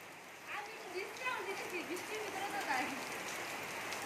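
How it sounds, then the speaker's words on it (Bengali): Steady rain patters across the whole stretch while voices talk over it, the hiss staying even and fairly close. "ঝর্ণা ছাড়া বৃষ্টি পড়তেছে"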